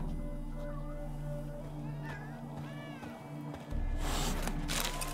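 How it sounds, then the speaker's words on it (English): Dozens of cats meowing in The Witcher 3 video game, drawn-out wavering cries layered over steady game music and ambience, with a louder burst of noise near the end. "There's hundreds of cats."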